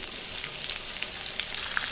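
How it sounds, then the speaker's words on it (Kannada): Onions frying in hot oil as a sambar tempering for a radish sambar, giving a steady, close, bright sizzle with small crackles throughout and no talking. "ಈರುಳ್ಳಿ ಸ್ವಲ್ಪ ಚೆನ್ನಾಗಿ ಫ್ರೈ ಆಗಲಿ."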